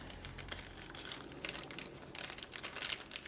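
A plastic bag holding motorcycle engine rebuild parts crinkles and rustles up close, with steady handling noise and a few sharper crackles.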